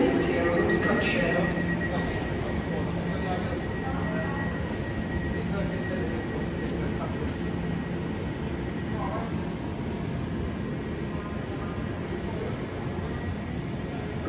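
A London Underground tube train pulls out of a station, a steady rumbling roar with squealing tones that holds at moderate level and slowly eases as the train moves off.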